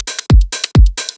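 Layered electronic hi-hats and shaker play on the offbeat between deep kick hits in a short drum loop, tight, punchy and loud with no voices.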